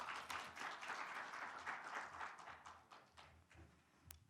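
Audience applause at an urban architecture symposium welcomes the next presenter, a steady wash of many hands clapping in a hall, moderately loud and continuous, thinning slightly toward the end with a few separate claps.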